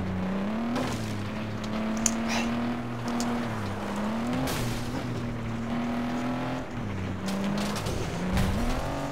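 Racing car in FlatOut 2 driving hard, a continuous loud engine drone that shifts pitch as the car slides, with tire skids and squeals breaking through over about nine seconds, no voices.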